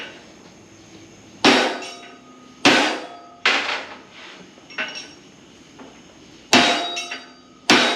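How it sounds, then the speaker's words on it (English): Six sharp, loud hammer blows strike a camera at uneven intervals in a car workshop, each a bright metallic crack with a short ringing decay. "I hit that camera with this hammer."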